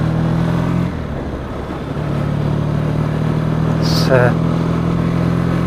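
A Triumph T140 twin fitted with Dunstall replica silencers runs with a steady, rumbling engine note throughout, rising slightly as it revs near the end, with a slight miss between closed and opened throttle; someone talks briefly over it.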